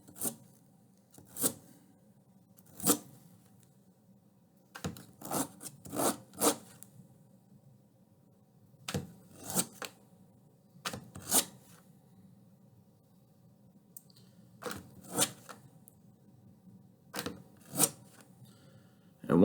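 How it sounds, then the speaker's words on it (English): Wooden paddle pop stick rolled and rubbed across sandpaper, a series of short, dry scraping strokes in irregular bursts with brief pauses between, close and fairly quiet. "I'm going to roll that on the sandpaper, roll it across."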